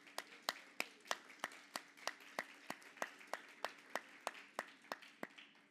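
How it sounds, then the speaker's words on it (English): An audience applauds at a conference event at the UN General Assembly, heard as sparse, rhythmic claps that are fairly distinct and moderately faint, with no talk over them. "they definitely deserve another round of applause"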